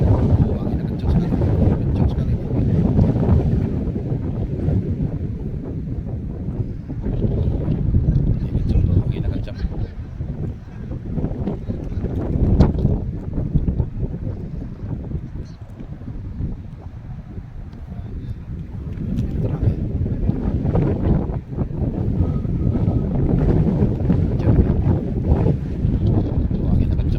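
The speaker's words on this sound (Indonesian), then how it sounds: "Buanginnya kencang sekali." Strong gusts of wind roar steadily across an outdoor football training pitch during a national U23 team session, a loud low rumble of wind noise on the microphone that swells and eases throughout.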